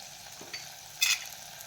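Peas sautéing in a pan with red chili powder, coriander powder, garam masala and turmeric, with a soft low sizzle and a couple of brief scraping strokes.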